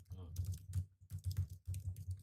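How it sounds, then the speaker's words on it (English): Fingers type on a computer keyboard in quick bursts of soft clicks separated by brief pauses. The typing is quiet and close. "I hear typing."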